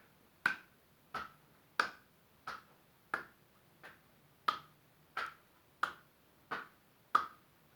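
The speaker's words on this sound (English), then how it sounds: "clapping in front and behind. Use the fist against the palm and then alternate behind the back" Fist smacking against an open palm, alternating in front of the body and behind the back during a qigong flow: eleven sharp, evenly spaced claps about two-thirds of a second apart, close and clear with nothing else around them.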